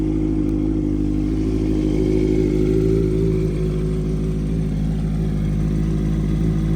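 A 2016 Honda CB650F motorcycle idles steadily nearby, its engine giving a loud, even, continuous hum with a slight mechanical clatter and no change in pace, no voices over it.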